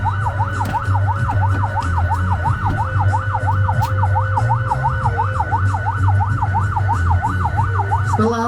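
An ambulance siren wails in a fast, steady up-and-down sweep over a low idling engine hum during a workplace safety rescue simulation by a company emergency team, loud and close, with no talking.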